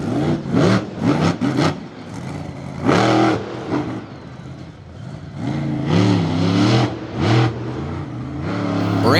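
A monster truck spins around on tarmac at an Indy event, smoking its Firestone tires, with loud engine revs that surge and fall in repeated bursts, close and continuous, with no talk over it.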